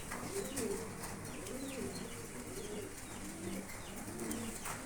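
Lahori pigeons coo in repeated low, throaty phrases at a farm, several birds overlapping close by against steady background noise, with faint chirps mixed in.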